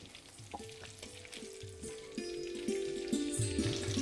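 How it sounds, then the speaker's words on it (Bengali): Bitter gourd frying crisp in hot oil for shukto, a steady bright sizzle with stirring clatter and scraping throughout, close and fairly loud, with soft musical tones running underneath and no voices. "আর যখনই দেখবেন উচ্ছেটা খুব ভালোভাবে ভাজা হয়ে যাবে তখন এটাকে তুলে নিন।"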